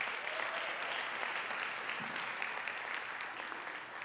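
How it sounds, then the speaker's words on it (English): Steady audience applause fills a gospel choir concert hall at a university, dense and continuous throughout, with no voices rising above the clapping. "I appreciate that applause."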